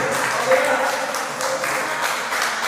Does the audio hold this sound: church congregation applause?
yes